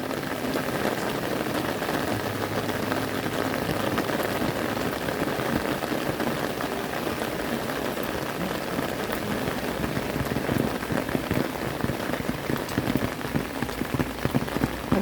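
Steady rain falls heavily on surfaces, a dense, even hiss of drops pattering nonstop, close and enveloping with no talk over it.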